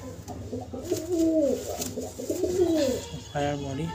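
Close, low pigeon cooing rolls through several rising-and-falling phrases over four seconds, throaty and repetitive, with some faint background noise.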